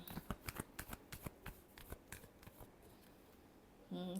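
Tarot cards riffled and shuffled by hand in a quick run of crisp, close bursts that fade to quiet near the end, faint and with no talking.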